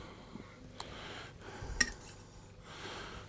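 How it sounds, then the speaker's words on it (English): A cocktail shaker for a Long Island Iced Tea is put together with ice inside: faint metallic clinks and scrapes, with one sharp metal knock in the middle, amid quiet handling noise. "we assemble the shaker"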